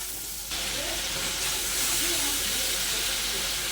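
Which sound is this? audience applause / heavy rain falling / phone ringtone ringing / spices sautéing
spices sautéing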